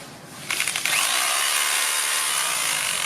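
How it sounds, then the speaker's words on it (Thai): An electric drill powered through a 3,000W 12V-to-220V inverter starts with a few stuttering bursts, then runs at a steady high-pitched whine that holds until the end. "ตัวแรกมาลองสว่านกันดูนะคะ"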